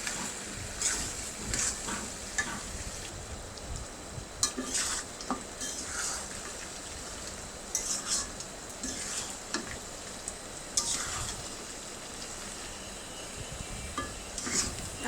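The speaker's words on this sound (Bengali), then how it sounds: "মাথা সহ আলুগুলো ভালো মতো কষিয়ে নেব" A fish head and potato pieces are sautéed in a pan for a homestyle muri ghonto, giving a soft continuous sizzle with frequent close scraping and stirring clatter from a spatula.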